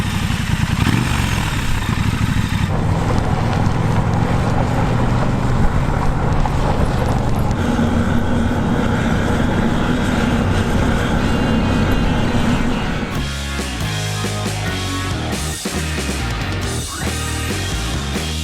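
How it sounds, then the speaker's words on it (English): A Triumph Scrambler motorcycle engine runs loud and close with a steady throaty drone that drops in level toward the end as the bike moves off. "Love the sound of this bike."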